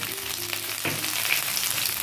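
Ginger paste and cumin powder sizzle steadily in a pan for a lentil dish with banana stem, with a soft stir or scrape partway through and no voices.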